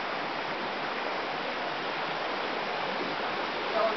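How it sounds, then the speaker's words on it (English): Creek water flowing steadily, a soft, even rushing hiss that continues unchanged with no voices. "We're at the creek."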